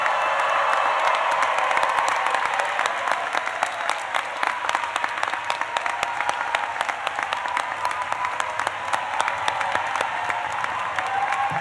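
Sustained, steady applause from a large graduation commencement audience, dense and loud throughout with scattered cheering mixed into the clapping.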